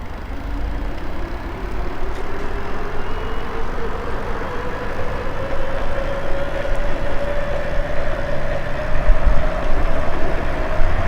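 A Eunorau G20 mid-drive electric cargo bike accelerates in mechanical gear 5, its motor whine rising slowly in pitch over a loud, steady rumble of wind and road noise. No one speaks.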